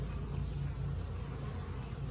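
Honey bees swarm in and out of a newly installed package hive outdoors, a steady, dense buzzing drone that stays constant and close throughout with no voices.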